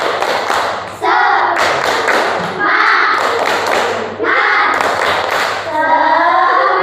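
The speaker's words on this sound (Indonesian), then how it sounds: "Coba 1 kali lagi tepuk semangat." Schoolchildren in a classroom perform the 'tepuk semangat' rhythmic clapping chant, loud bursts of group claps and shouted chanting voices in quick patterned rhythm, nearby and filling the room.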